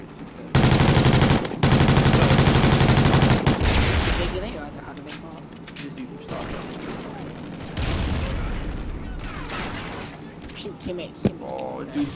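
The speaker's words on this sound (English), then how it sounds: "dude's shooting at me with suppressor." Suppressed gunfire in a Call of Duty match, loud sustained bursts early on followed by quieter scattered shots and game noise, with people talking over it.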